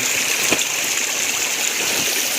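A hillside stream coming down from the Sahyadri hills rushes and gushes steadily nearby, a loud unbroken wash of flowing water.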